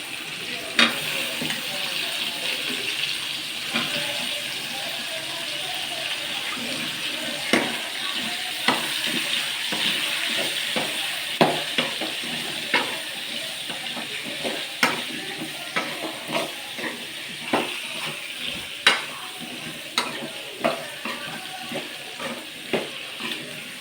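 Brinjal and tomato sautéing in hot oil for a karuvattu kulambu, with a steady sizzle and repeated sharp clicks of a spoon stirring against the pan, close and clear with no talk.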